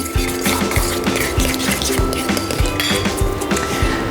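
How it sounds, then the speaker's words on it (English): A whisk clinks briskly against a bowl, beating grated Parmesan and cracked black pepper together for carbonara risotto, with a steady run of close, rhythmic metallic taps. "Whisk this all together."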